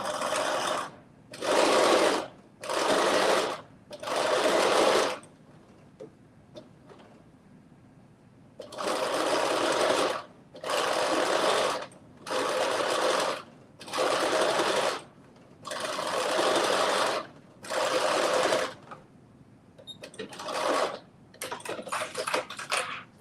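A sewing machine stitches a band of fabric in about a dozen steady bursts of rapid whirring, each a second or so long, separated by short pauses, close and alone.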